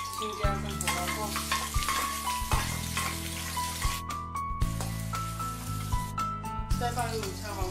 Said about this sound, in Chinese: 炒出香味后放入青椒跟胡萝卜